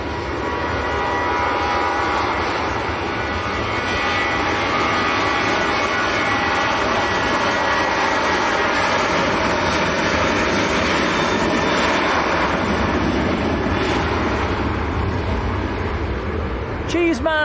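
A TUI jet rolling for takeoff at Manchester Airport for Corfu builds a loud, broad engine roar with a high whine that stays strong and continuous throughout, with a voice talking over it.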